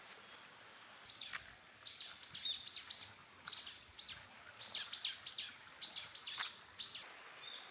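Birds sing in a forest in the early morning, repeated short, bright phrases, clear chirping bursts over a quiet outdoor background.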